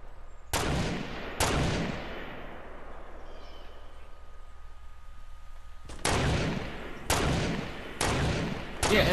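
Sniper gunfire in a video game: loud, sharp cracks with long decaying tails, two early shots followed by a quiet gap, then a rapid run of four more near the end.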